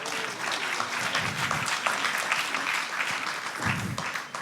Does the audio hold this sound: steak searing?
no